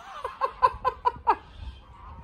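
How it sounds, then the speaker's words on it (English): Geese honk while chasing children, a quick run of five or six loud, nasal calls close by that then fade into faint background noise. "they're getting chased by the geese"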